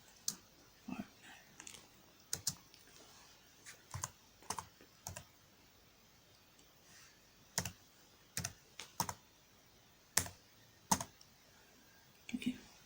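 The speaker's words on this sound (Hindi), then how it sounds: "कैप्स लॉक दबाऊँगी और लिख दूँगी आवर पार्टनर" Keys clack on a computer keyboard in irregular, spaced bursts while someone types a website heading, the caps lock key pressed along the way; the clicks are close but quiet over low room noise.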